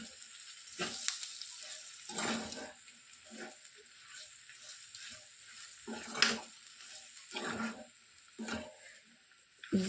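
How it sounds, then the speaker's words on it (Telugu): Ivy gourd with an onion spice mix is stirred in hot oil, giving a faint background sizzle broken by repeated scraping bursts from a spoon at irregular intervals. "ఒక్కసారి ఈ విధంగా ఆయిల్లోనే మనం కలిపినట్లు చేసేసి ఆ తర్వాత కంప్లీట్గా ఈ విధంగా కలుపుకోవాలి"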